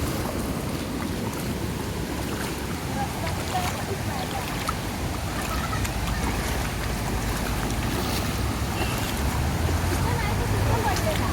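Water rushes and roars continuously at Savatsada waterfall near Chiplun, a loud steady wash with gusty wind buffeting the microphone and voices talking over it.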